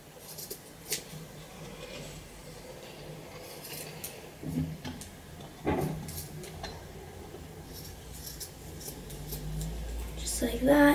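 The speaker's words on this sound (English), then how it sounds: "And then we're going to cut." Scissors snip through a thick bundle of yarn while making a pompom, giving a few soft, close crunching cuts amid quiet handling noise.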